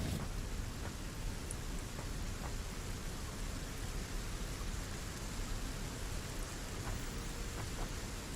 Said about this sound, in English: I think the rain in this biome is better than our home biome.